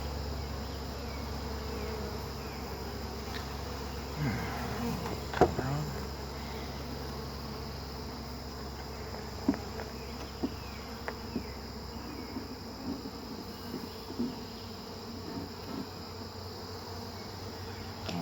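Honey bees buzzing around a hive during installation, a steady low drone close by with a few faint knocks and taps scattered through.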